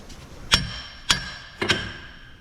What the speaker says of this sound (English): now with the hammer we can tap the fork down from the shock absorber